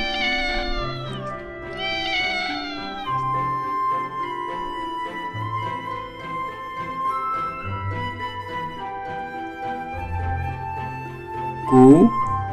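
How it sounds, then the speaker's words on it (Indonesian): A domestic cat meows several times in drawn-out, wavering calls, with a sharper rising cry near the end, set against soft background music for a children's pet-sounds lesson. "Kucing."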